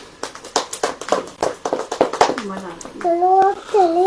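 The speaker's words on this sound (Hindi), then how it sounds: "तालियां कितनी बजाएंगे?" An audience claps during a Hindi Christian church sermon, sharp rhythmic claps repeating close and loud, then voices take over.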